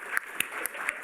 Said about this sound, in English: Let's give them big round of applause.